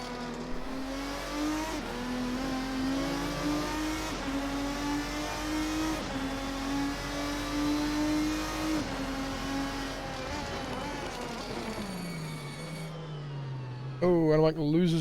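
Race car engines in the Assetto Corsa racing game, a GT race at Homestead Miami, hold a loud sustained drone that climbs and drops through gear changes, with a commentator talking over the top.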